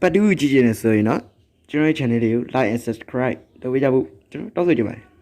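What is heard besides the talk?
No everyday noises stand out.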